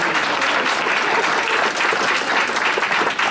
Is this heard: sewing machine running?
no